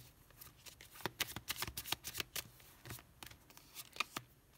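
Tarot cards are shuffled and handled close up, giving quick bursts of riffling and soft flicking slaps in an irregular rhythm against a quiet background.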